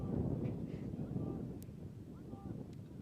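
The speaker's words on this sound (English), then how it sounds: "it is just crazy windy right now" Strong gusts buffet the microphone at an outdoor high school baseball game between the Alchesay Falcons and St. Johns, a steady low rumble of wind roaring throughout with faint background sounds.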